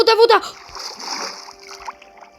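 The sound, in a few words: water splash in Minecraft video game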